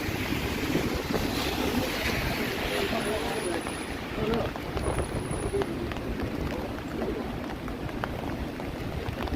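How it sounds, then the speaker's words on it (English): Strong wind roars and buffets steadily across the microphone on a rainy downtown Toronto evening, with faint street sounds underneath. "Holy wind."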